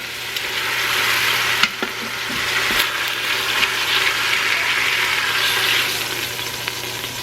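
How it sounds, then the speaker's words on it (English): Steady, loud sizzling and frying of beef browning in oil in a pressure cooker pan, with a few light clinks of a utensil stirring, no voices. "so we are done browning the meat"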